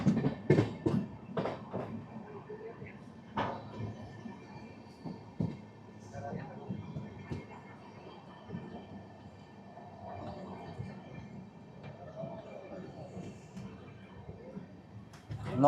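Vibhuti Express on its first LHB run, entering Durgapur station, heard from inside as a soft, low rolling rumble with sporadic clunks and knocks from the coaches, faint overall, with occasional voices.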